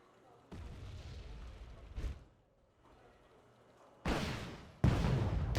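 Artillery shells landing in Wargame: Red Dragon, a Second Korean War campaign set in 1992: a few heavy booms and rumbling impacts, with two loud blasts near the end, spaced apart and fairly close.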